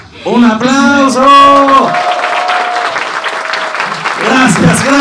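A studio audience claps and cheers loudly on a comedy news show while someone shouts over the start with drawn-out, excited calls, then the applause carries on as a dense, bright patter under his voice.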